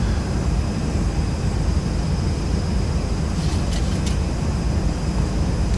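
Boeing 737-200 jet engines in X-Plane 11 give a steady, dense roar at constant loudness throughout, with only a few faint high ticks partway through.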